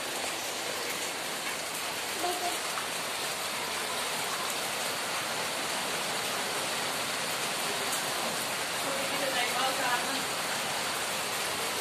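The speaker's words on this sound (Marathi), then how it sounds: "खूप छान जोरदार बारिश झालेली आहे" Heavy rain pours down outside in a village, a dense, steady hiss and patter that stays loud throughout, with a few faint voices now and then beneath it.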